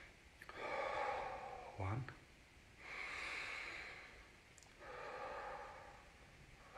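Kapalbhati breathing: three long, strong nasal exhalations, close and clear, each a rushing breath separated by short quiet gaps, with a brief spoken word near the start.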